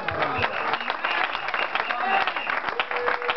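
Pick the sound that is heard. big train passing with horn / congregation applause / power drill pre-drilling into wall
congregation applause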